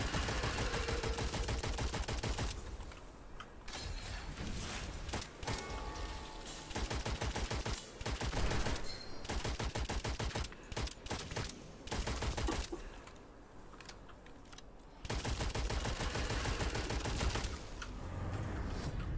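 Rapid gunfire from shooting in the game Witchfire, dense bursts of shots rattling in long stretches broken by short quiet gaps, fairly faint overall, no talk.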